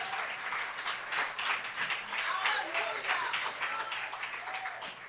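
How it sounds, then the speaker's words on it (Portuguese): A church congregation applauds steadily for several seconds, dense clapping with voices mixed in, sustained and fairly loud throughout. "Aplauda esse Deus e esse povo."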